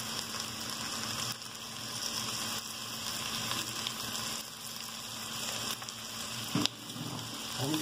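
Garlic and onion sizzle steadily in a pan for a hearty broth, a soft continuous frying hiss with a faint hum and one brief clatter near the end.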